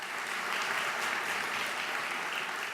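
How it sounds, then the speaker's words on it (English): Sustained applause from a conference audience at a state technology forum kickoff, steady dense clapping that fills the room evenly from start to end with no voices. "Let's give them a round of applause."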